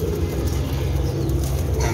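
Golden pigeons coo in a steady low, throaty murmur close to the microphone, a continuous pulsing drone with a brief flutter near the end.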